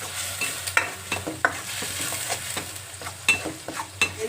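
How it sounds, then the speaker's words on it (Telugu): Onion paste gravy sizzles softly in a pan while a spoon stirs and scrapes through it in irregular strokes, with occasional sharper clinks against the metal, close and fairly quiet. "ఇది కూడా పచ్చివాసన పోయేంత వరకు బాగా దూరగా వచ్చేంత వరకు వేయించుకోవాలండి."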